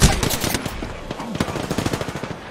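Rapid automatic gunfire rattles in Apex Legends as another team shoots, loud close bursts of clustered shots repeating across a couple of seconds, with little talk.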